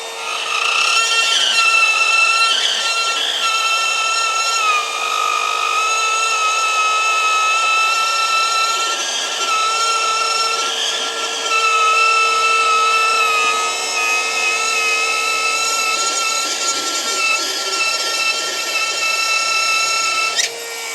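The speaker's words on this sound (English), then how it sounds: "drywall router" A drywall router cuts through drywall with a loud, sustained high-pitched whine and grinding rasp, close by, holding steady for about twenty seconds with slight dips as the cut moves, and no talking.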